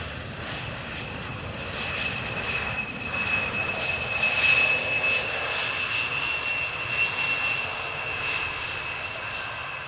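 An Aeromexico airliner arriving at Amsterdam Schiphol Airport gives a steady, distant jet roar with a thin high whine, swelling slightly midway and holding at moderate level throughout, with no talk.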